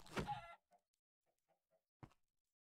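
A standard chicken in the Minecraft video game clucks in short bursts: one loud cluck at the start, a few faint soft clucks in the middle, then another brief cluck near the end, with no talking.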